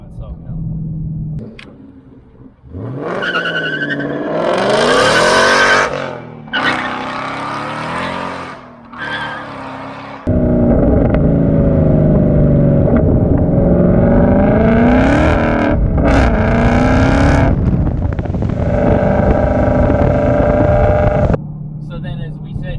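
Supercharged ROUSH 2019 Mustang GT V8 revving hard under throttle, a loud rising engine roar with repeated surges, people talking over it.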